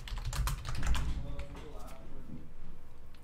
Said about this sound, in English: I clickety-clack on my keyboard sometimes